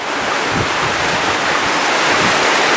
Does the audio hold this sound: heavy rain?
yes